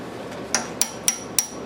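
Four sharp metallic hammer taps fitting governors on an Alamo hit-and-miss engine under restoration, evenly spaced and ringing briefly, with a quiet background hum between strikes.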